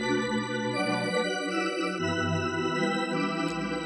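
Granular pad synth in Phase Plant, set to 5 grains, holds lush sustained chords that change every second or so, rich and full with a shimmering top, loud and steady with no voices.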